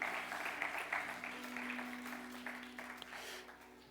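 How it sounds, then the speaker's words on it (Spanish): A church congregation claps together during an evening worship service, a steady dense wash of applause sustained throughout, with a low hum running underneath. "Dale un fuerte aplauso a Jesús en esta noche."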